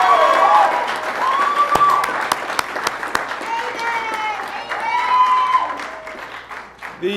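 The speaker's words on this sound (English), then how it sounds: "Let's give a big round of applause to the men and women of law enforcement who have done a great job." A press-conference crowd applauds law enforcement officers, steady broadband clapping for about seven seconds with raised voices and tonal calls riding over it.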